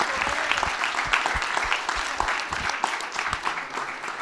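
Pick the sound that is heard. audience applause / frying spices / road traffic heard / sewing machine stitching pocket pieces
audience applause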